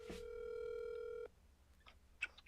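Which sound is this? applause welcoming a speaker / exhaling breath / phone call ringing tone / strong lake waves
phone call ringing tone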